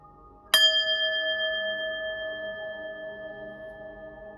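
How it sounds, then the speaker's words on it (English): A small bell is struck once to clear energy, giving a bright metallic strike followed by a clear, sustained ring that slowly fades in a quiet room. "I'm going to ring the bell, clear your energy"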